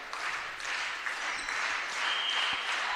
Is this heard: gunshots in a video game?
no